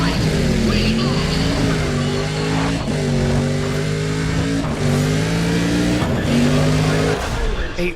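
Supercharged car engine in a racing video game revs loud and continuous, pitch sweeping up and dropping back with each gear change over several seconds.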